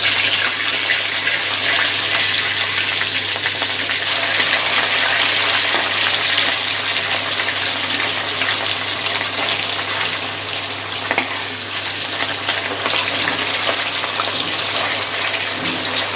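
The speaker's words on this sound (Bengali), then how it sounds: "গ্যাসটা বাড়িয়ে দিয়ে মাছের এক দিকটা ভেজে নেব।" Catla fish pieces fry over high gas in hot oil, a dense, loud and unbroken hiss and sizzle that holds steady throughout with no talking.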